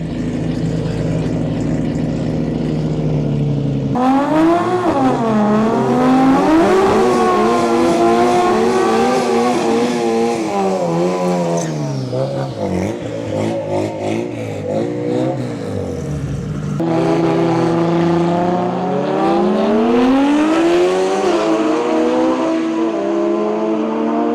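A Toyota Supra launches down the drag strip at Santa Pod during a street weekend, the engine howling loud and close through rapid rising gear pulls, each shift dipping before the revs climb again.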